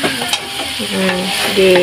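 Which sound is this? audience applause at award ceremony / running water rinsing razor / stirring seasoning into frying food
stirring seasoning into frying food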